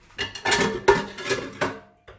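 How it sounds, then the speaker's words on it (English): A whole pan of food with goat cheese dumped out in a home kitchen, several loud close metallic clanks and scrapes of pan and utensils in quick succession, then a final lighter knock. "just take the whole pan, dump it right in"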